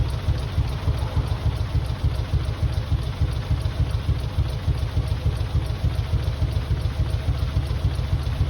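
A freshly installed engine in a Mitsubishi 3000GT VR4 idles steadily after its first start with an injector problem, a loud, continuous low rumble with a fast, even pulsing throughout, no voices.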